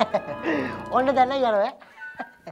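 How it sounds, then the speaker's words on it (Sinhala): A chicken clucks and squawks nearby in a short lively run, while a person speaks over part of it. "කොහෙන්ද මේ නිකන් කුකුල් එක්කෑ ගන්න සද්දයක් ඇහෙන්නේ"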